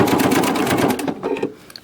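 Sewing machine stitches quilt sashing in a quick, close, rapid run of needle strokes that slows and trails off near the end of a brief burst.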